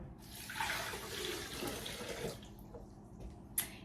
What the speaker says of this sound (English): You are going to add about 3 cups of water.